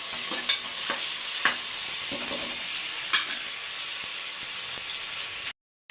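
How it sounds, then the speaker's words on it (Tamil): Ginger garlic paste sautéing with onions in a pan, a steady soft sizzle of frying broken by several sharp clicks and scrapes of a stirring spoon against the pan, with no talking. "அதுவும் நல்லா வதக்கிக்கலாம்."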